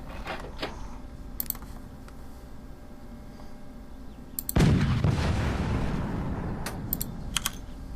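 A cannon in the video game Forts fires once with a sharp, loud boom that rolls off into a long decaying rumble, preceded and followed by scattered mechanical clicks and ticks.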